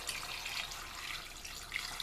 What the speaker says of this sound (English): now what I want to do is just top it off with some water just to cover those potatoes